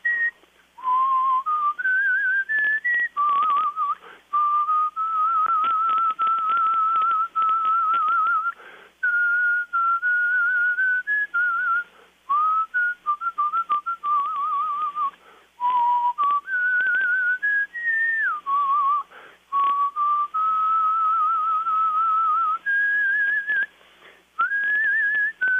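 A man whistles a tune, a clear, steady melodic line held alone for about twenty-five seconds with brief pauses between phrases and no talk.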